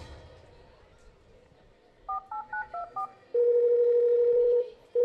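Telephone dialing a call: after a quiet lead-in, four short touch-tone beeps sound in quick succession, then a long steady ringback tone begins, with the recording ending on another tone.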